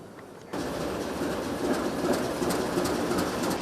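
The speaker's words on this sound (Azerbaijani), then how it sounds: "Azərbaycandan Ermənistana yük qatarı keçir." A freight train from Azerbaijan to Armenia rumbles past close by, its heavy steady roar starting suddenly and continuing with faint rhythmic clatter of wheels.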